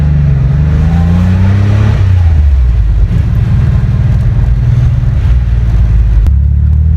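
A 1989 Porsche 911 Carrera Cabriolet pulls downhill under partial throttle, its engine note climbing then dropping at a shift before settling into a steady, loud, close drone.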